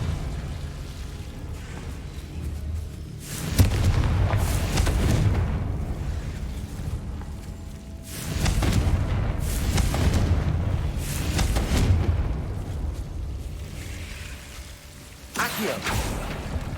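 Confringo blasting spells in Hogwarts Legacy, several loud booming explosions in separate bursts a few seconds apart, each rumbling and fading.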